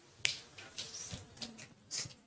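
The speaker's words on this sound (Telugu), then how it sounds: "చిటికేసి అనాలి." Crisp finger snaps ring out one at a time during a church sermon, about half a dozen sharp clicks at an uneven pace.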